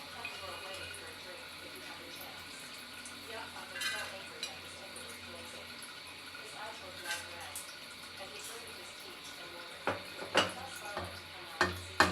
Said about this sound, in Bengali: আমি বাদামগুলো ভাজে নেব।